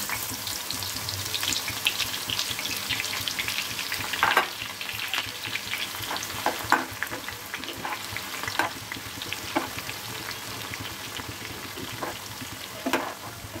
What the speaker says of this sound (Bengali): তেল নেওয়ার পরে আমরা চিকেন রোস্ট করার জন্য পেঁয়াজ বেরেস্তাটা করে নেব।